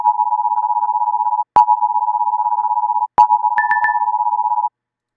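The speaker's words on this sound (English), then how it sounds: "Two different sound effects for weather-wise," A steady electronic weather alert tone, briefly interrupted twice, with faint higher beeps near the end; loud, close and mechanical, like a siren-style phone alert.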